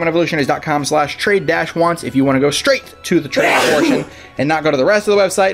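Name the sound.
sneeze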